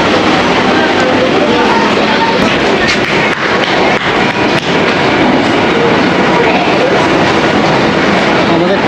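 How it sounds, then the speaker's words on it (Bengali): A passenger train pulls out of a station, its steady loud rumble and rail noise filling the space with faint clicking, while people talk nearby. "আমাদের ট্রেন একেবারে ডট 7:40 ছাড়লো"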